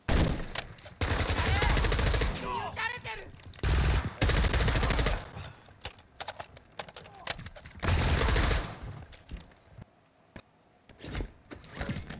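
Gunfire in the video game DMZ, bursts of rapid automatic shots in several loud clusters with quieter gaps between them, some nearby and some more distant, with people talking at moments.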